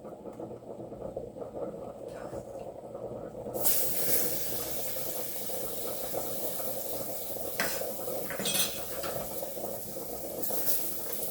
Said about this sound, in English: let me put my onion in the gravy.